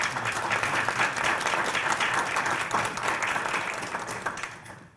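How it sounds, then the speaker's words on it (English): Sustained audience applause at a Marketing Institute (Southern Division) event, steady dense clapping from a seated crowd for about five seconds, easing slightly toward the end. "Could we give them a round of applause, please?"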